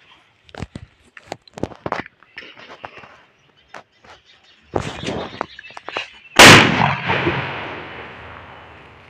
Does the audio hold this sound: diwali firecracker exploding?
yes